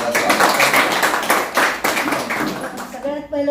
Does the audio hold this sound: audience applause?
yes